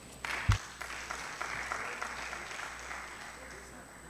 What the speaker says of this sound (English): Give that panel another round of applause.